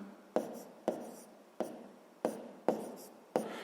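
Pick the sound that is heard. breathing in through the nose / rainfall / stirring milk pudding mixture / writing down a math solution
writing down a math solution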